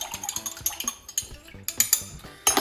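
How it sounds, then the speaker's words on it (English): A utensil stirs sugar into vinegar pickle liquid in a container, making quick, rhythmic clinks and scrapes that come in irregular bursts at close range. "So stir this through until the sugar dissolves."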